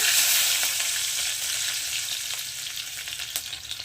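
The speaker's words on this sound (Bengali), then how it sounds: "প্রথমেই আমি তেলের মধ্যে রসুনটাকে দিয়ে দেব" Chopped garlic drops into hot oil for restaurant-style chilli paneer, starting with a loud burst of sizzling that eases slightly into steady crackling, with a few spatters and stirring taps near the end.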